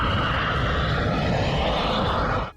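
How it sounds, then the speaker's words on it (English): Jet engines of Jeju Air Flight 2216 on final approach, a steady, loud roar that holds for the whole stretch and cuts off abruptly at the end. "the sound of jet engines can be heard during the final sequence"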